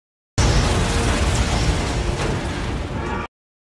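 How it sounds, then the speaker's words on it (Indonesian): A loud, sustained roar of explosive blasts and crackling bursts as an aircraft is shot apart in the film Battleship, dense and continuous for about three seconds, then cutting off abruptly. "meluncurkan tembakan bertubi-tubi tepat mengenai pesawat itu, membuatnya hancur berkeping-keping"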